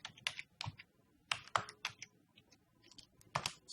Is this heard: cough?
no